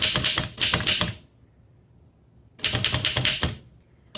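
Typing on a 1913 Royal 5 antique typewriter, rapid clacking keystrokes in two close bursts separated by a short pause, each strike sharp and mechanical, heard up close without talk.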